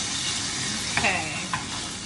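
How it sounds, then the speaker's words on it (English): Rice sizzles and fries steadily in hot oil in a pan, with a couple of brief scraping stirs, close and moderately quiet. "We want it to go back to frying now."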